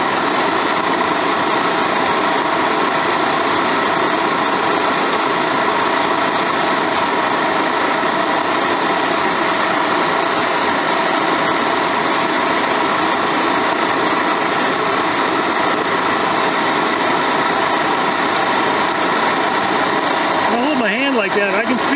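A 1973 VW Super Beetle engine with oil cooler modifications runs loud and steady, a dense continuous mechanical drone that holds throughout without clear surges.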